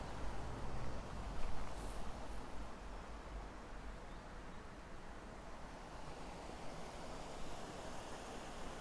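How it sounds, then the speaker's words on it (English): A small brook beside a little footbridge in Whiston, Rotherham, runs with a steady broadband rushing and trickling wash, constant and moderately soft, with no voices. "Can you hear that running water?"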